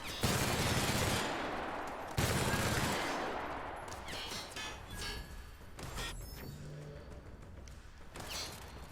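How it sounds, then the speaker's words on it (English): Sustained machine gun fire in The Outer Worlds, loud and dense bursts that run nearly the whole stretch, restarting after a short break, then thinning into scattered shots and impacts. "That's how you say fuck off in machine gun."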